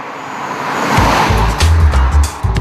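A Volkswagen CC with a 3.6-litre V6 engine rises from quiet into a loud, rumbling drive-by swell, the deep engine note building and holding for a couple of seconds.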